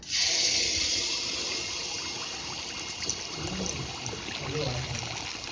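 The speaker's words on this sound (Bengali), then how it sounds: "তেল গরম হয়ে গেছে আর তেলের পিঠেটা ভাজকে নিমো" Tel pitha batter drops into hot oil, setting off a sudden loud hiss that settles into a steady, bubbling sizzle close by.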